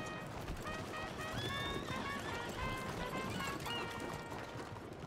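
A horse in the open-world western video game Red Dead Redemption 2 neighs and whinnies with hoofbeats under a dense, busy game soundscape for several seconds, with no talking.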